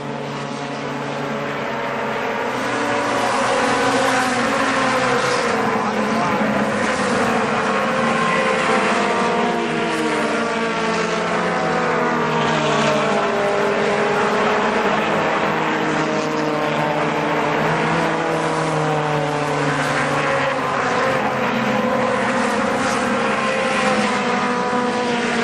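Race cars roar around the oval at Kil-Kare Speedway in a 1998 race, a dense, loud, continuous engine drone swelling as the pack passes, with no talk over it.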